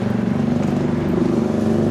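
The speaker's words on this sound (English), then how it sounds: "loud motorbike" A loud motorbike engine roars nearby on a street near a Japanese beach town, a steady rumbling drone holding for the whole two seconds without a break.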